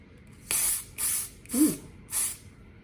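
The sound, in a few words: spraying product onto eyebrow spoolie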